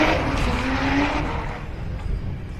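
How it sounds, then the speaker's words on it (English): A drift car at a British Drift Championships qualifying round at Teesside roars past at full throttle, its engine and exhaust loud and close, with a rising whine and then a fading rumble as it moves away. "Another fantastic sounding car there."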